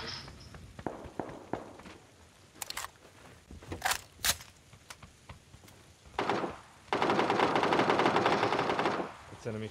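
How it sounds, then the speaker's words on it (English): Enemy gunfire in the PUBG battle royale game: scattered sharp shots and short bursts ring out, then a long sustained automatic volley roars loudly for several seconds. "It's enemy shots, enemy shots."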